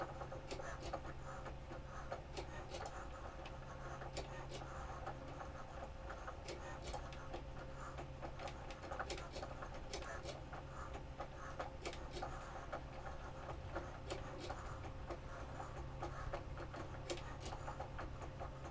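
A Cricut Joy 2 cutting machine cuts vinyl, giving a quiet, steady whir with fine ticking and scratching taps running throughout at low level, close by and without talk.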